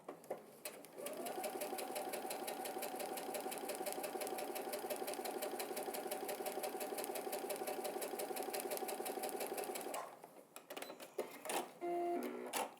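A sewing machine runs at a steady fast pace for about nine seconds, its rapid rhythmic stitching clear and close, then stops with a few clicks.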